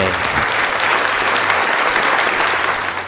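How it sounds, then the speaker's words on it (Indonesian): A grade 6 class bursts into brisk, dense clapping at the start of a computer lesson, a short steady round of applause from many hands, fairly loud and close, with no talking over it. "Kasih tepuk tangan"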